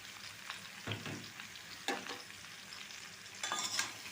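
Raw, slightly sour mango pieces are stirred with turmeric in a pan over very low heat, giving soft scraping strokes and faint sizzling in quiet, irregular bursts.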